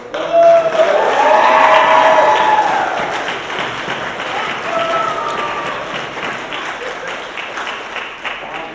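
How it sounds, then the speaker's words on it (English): A university event crowd applauds loudly for the organizers, with cheering voices rising early, then the clapping thins and fades over several seconds. "please everybody give up a loud, crazy round of applause for the folks that put on events like this"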